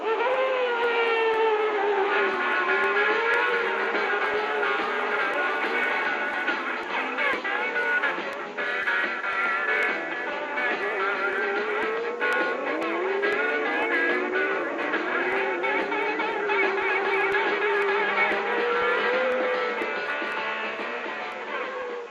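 Several high-revving race car engines at a race start whine and wail together, pitches rising and falling continuously, loud and sustained with no talk.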